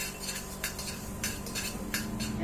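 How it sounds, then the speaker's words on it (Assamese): Yellow mustard seeds being stirred in a kadai over a low gas flame; a spoon scrapes and clinks against the pan in repeated strokes over a faint crackle, close and fairly clear. "এয়া মই সৰিয়হখিনি ভালদৰে লৰাই দিছোঁ।"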